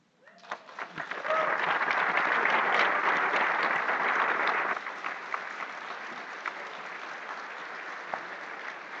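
A crowd at a 2013 panel discussion on airport expansion in Toronto breaks into applause that swells quickly, holds strongly for a few seconds, then thins to scattered clapping.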